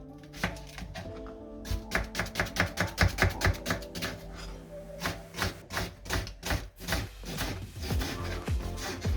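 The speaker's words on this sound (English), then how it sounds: "We try to cut it in cubes, small cubes, if it's possible diced" Knife dicing an onion into small cubes on a board, a run of quick, crisp chopping taps that come in bursts with short pauses, close and fairly loud.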